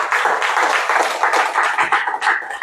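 A church congregation claps together during a sermon, a dense, sustained burst of applause from a crowd close by.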